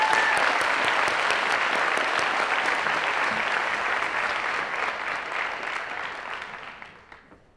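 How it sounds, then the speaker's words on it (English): Crowd at a senior awards and cording ceremony applauding the top three seniors, sustained dense clapping that slowly fades out over the last couple of seconds. "Another round of applause for our top 3 seniors."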